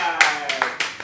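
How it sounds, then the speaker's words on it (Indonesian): A few sharp hand claps, about four, spaced in quick succession close by during a casual Indonesian conversation, with talk around them. "Tepuk tangan dong, Kai"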